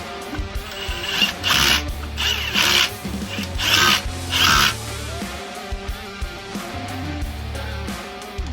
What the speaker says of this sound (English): Don't make fun of my fancy torque wrench.